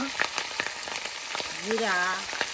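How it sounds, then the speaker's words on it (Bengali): Onion, garlic and cumin paste fry in oil in a home kitchen, giving a steady close sizzle with soft crackles, while a brief tonal voice-like sound rises over it partway through. "পেঁয়াজ বাটা, রসুন বাটা, জিরা বাটা, সকল প্রকারের বাটা দেখুন প্রিয় ভিউয়ার্স একসাথে দিয়ে এই তেলের সাথে আপনার ভেজে নেওয়া হচ্ছে"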